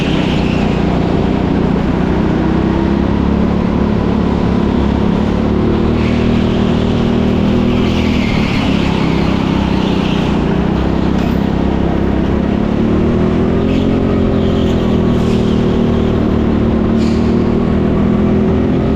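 Go-kart engine at TeamSport Leicester on slippery indoor concrete, a steady loud drone running close throughout with small dips and rises in pitch as the kart brakes and accelerates through corners, sounding slightly boggy low down.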